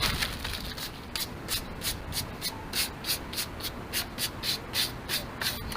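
Sandpaper of 100 grit rubbing over boat gelcoat in a repair, a steady series of short, rhythmic scratchy strokes at close range, moderately quiet, with no talking.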